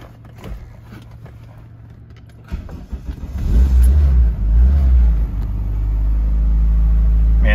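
A car engine cranks and catches, then runs with an uneven, surging low rumble as it struggles to hold an idle, loud and close with no talking.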